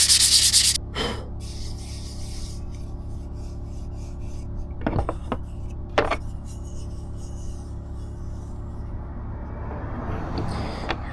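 Hand sanding with 220 grit sandpaper on a surface later to be covered in epoxy, heard as several short close rubbing strokes with pauses between them and a low background hum.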